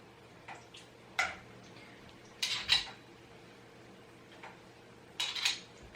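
A knife scrapes and taps inside a pan while food for a summer pasta salad is cut, giving a few sparse, sharp clinks and scrapes at close range with quiet gaps between them.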